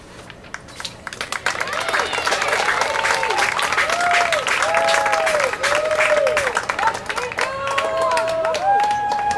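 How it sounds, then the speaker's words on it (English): Sustained crowd applause and cheering for the Mount Lebanon girls lacrosse seniors and their families at a home game against Baldwin, with dense clapping, whoops and background chatter throughout. "Let's hear one more round of applause for our Mount Lebanon seniors and their families"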